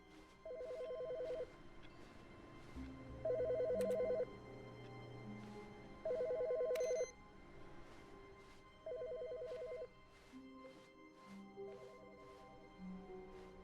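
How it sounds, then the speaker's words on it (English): A telephone rings in The Stanley Parable, the game's phone giving four clear bursts of ringing spaced about two to three seconds apart, then a softer fifth, over a quiet ambient background with no speech. "Phone ringing."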